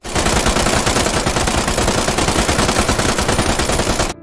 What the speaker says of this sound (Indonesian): langsung memerintahkan regu senapan mesin untuk menembaki para pasukan Nazi Jerman